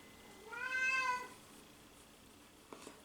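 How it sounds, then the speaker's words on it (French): A deaf house cat gives one drawn-out, wavering meow at close range in a quiet room, followed by a couple of faint clicks. "Ça, c'est mon chat qui chiale."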